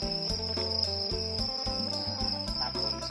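Farmed crickets chirp in a steady, continuous high trill that runs throughout at moderate loudness, with other tonal sounds layered beneath.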